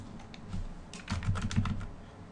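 Quiet clicking of keys on a computer keyboard, a few scattered taps followed by a quick burst of typing, close and fairly soft.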